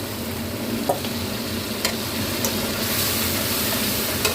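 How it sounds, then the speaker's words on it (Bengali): Mashed beans with cumin powder are stirred in a hot pan, a steady close sizzle and scraping under a few sharp spoon clicks against the metal. "এবার নাড়িয়ে নেব।"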